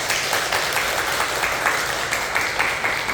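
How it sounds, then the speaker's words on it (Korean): A church congregation at a Sunday service claps in warm welcome for a visiting member, a steady, dense wash of applause that holds evenly from start to finish with no voices over it. "따뜻하게 박수로 환영해 주시면 됩니다."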